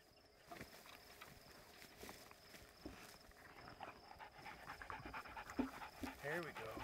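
Hunting decoy dogs pant steadily through a quiet Montana evening in tall grass after a coyote hunt, the panting soft and continuous under faint movement and rustling, growing slightly louder toward the end.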